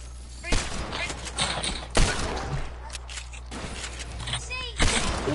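Sniper shots and gunfire in a Fortnite match, sharp cracks spaced a few seconds apart over a constant game soundtrack, with people talking throughout.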